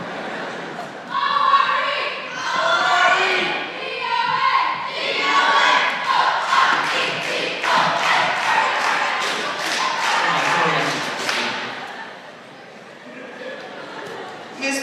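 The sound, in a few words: cheerleaders chanting a cheer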